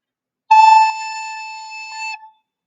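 A single sustained recorder note, clear and pure, held for under two seconds with a slight breathy start before it stops.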